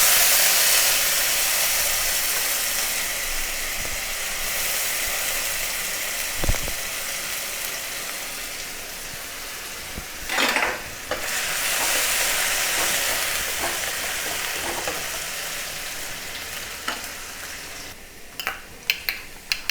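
Chopped potatoes and a dried red chilli sizzle in hot oil in a pan of mourala fish curry, giving a steady, hissing fry with a few clinks and stirring knocks near the end.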